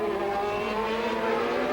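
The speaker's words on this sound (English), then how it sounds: "Stabs of flame from the V12 Honda engine of Gerhard Berger as they go round Casino Square" Formula 1 cars with a V12 Honda engine race around Monaco's Casino Square during the 1992 Grand Prix, a loud continuous high-pitched engine wail alone throughout.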